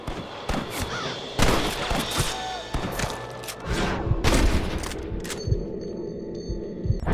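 Dense, rapid bursts of gunshots in a Red Dead Redemption shootout on PS5, loud and layered with thuds and impacts, continuing almost without pause, with a few shouted voices mixed in.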